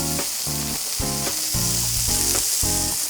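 Onions sizzling loudly on a hot Blackstone griddle with oil and butter, a steady close frying hiss broken by several rhythmic scraping turns of a spatula across the flat top.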